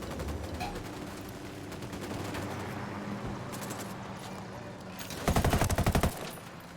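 Video game gunfire, dense bursts of automatic weapons firing throughout, with a loud rapid close volley near the end over a low rumble.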